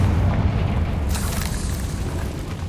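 A Confringo fire spell explodes in the Hogwarts Legacy video game, a dense, rumbling boom with hissing blast noise that stays loud and steady across the whole moment, no voices present.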